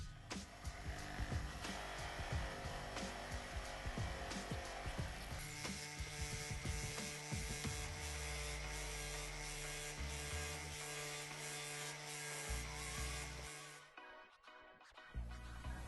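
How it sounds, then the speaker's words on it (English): A bench grinder polisher buffing a handmade skull ring to a shine, a continuous loud motor whine with rattling and scraping as the metal is pressed against the wheel, then the motor winding down near the end. "I'm going to be using the bench grinder polisher thingy"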